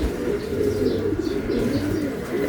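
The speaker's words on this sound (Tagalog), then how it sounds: "mga kaibon" Pigeons or doves coo in a steady low murmur close by, with a few faint chirps above, no talking.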